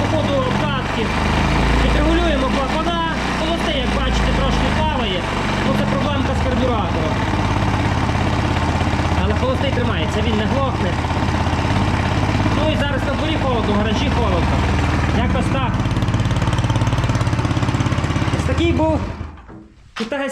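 A small Chinese 4-stroke 139QMB scooter engine runs steadily and loudly for the whole stretch, a rough, buzzing idle with uneven putters, then cuts out abruptly near the end.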